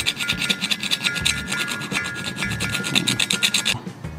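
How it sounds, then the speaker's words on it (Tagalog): A metal file rasps over a cylinder port on a Yamaha RXT135 two-stroke motorcycle engine, loud and close in quick rhythmic strokes, then stops just before the end. "Huwag ayan tumama yung kikil sa bore."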